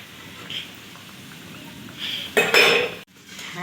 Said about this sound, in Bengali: উল্টিয়ে পাল্টিয়ে লাল করে ভেজে নেব